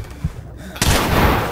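Gunfire in the tactical shooter Ready or Not: a soft thump early on, then a sudden loud burst of shots that rings out and decays into echo.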